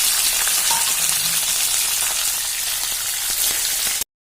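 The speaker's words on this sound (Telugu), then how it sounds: "ఇప్పుడు మిర్చి వేద్దాం, అలానే ఉల్లిపాయలు వేద్దాము." Peanuts, green chilies and onions fry in hot oil for an ivy gourd and peanut dish, giving a dense, steady sizzle that runs loud and unbroken for about four seconds with no talking.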